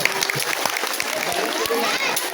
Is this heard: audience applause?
yes